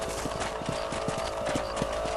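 Horse hooves gallop in a steady, rapid clip-clop rhythm in the Red Dead Redemption video game, loud and close over a constant background bed, with no voices.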